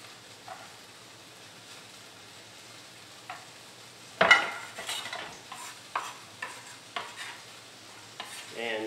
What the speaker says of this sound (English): So what I'm gonna do is toss this in a dish here.